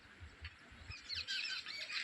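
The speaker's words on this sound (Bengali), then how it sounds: "এই যে জলের শব্দ, এই যে পাখির ডাক" Small birds squawk and chirp in short bursts beside a quiet stream trickling over small stones at Sitaijhor, a secluded spot with no people around; the calls are moderately close over a steady background wash.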